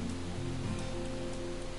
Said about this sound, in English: Now it's starting to rain.